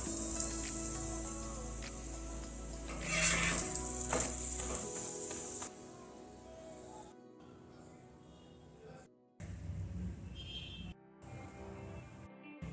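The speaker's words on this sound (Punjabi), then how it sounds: "ਪਰੌਂਠੇ ਦੀ ਸਾਈਡ ਚੇਂਜ ਕਰ ਦੇਵਾਂਗੇ ਇਹ ਆਪਾਂ ਪਲਟ ਦੇਵਾਂਗੇ" A lentil-stuffed paratha sizzles and fries on a hot griddle, the steady crackle loud for the first few seconds, then quieter and intermittent with brief gaps as it is flipped.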